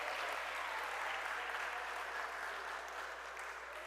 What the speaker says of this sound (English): I invite you all to please clap your hands to celebrate this very important step for them.